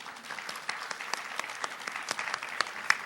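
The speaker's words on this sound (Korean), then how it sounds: "박수 한번 쳐주십시오." Lecture audience applauding a philosophy talk, a steady patter of many hands clapping together at moderate distance, fairly soft and even throughout, with no speech over it.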